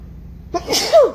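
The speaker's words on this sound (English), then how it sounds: "excuse me, I'm gonna sneeze" A single sharp sneeze, close and sudden, ends in a brief squeaky tail after a quiet moment.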